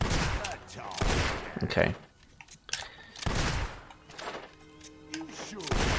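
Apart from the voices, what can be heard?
gunshots in the video game Fable 2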